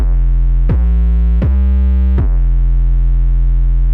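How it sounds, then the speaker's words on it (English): A deep, sustained 808 bass sample plays three successive notes, each attack marked by a punchy click, heavy and smooth with no other sounds. "I've loaded a sample from Media Bay that's an 808 bass"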